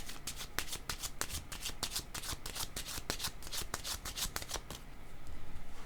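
Tarot cards being shuffled by hand, a dense, continuous riffling flutter of quick card slaps that runs for several seconds before easing into a softer rustle.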